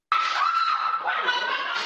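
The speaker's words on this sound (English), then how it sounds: "After a worker screams" A worker screams inside a jewelry store as robbers force their way in, one carrying a sledgehammer; a single loud, sustained shrill cry fills the moment, close and continuous.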